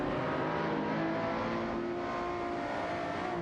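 A Porsche 911 997 Turbo and a Jaguar F-Type Project 7 race in a video game, their engines holding a steady, continuous roar throughout.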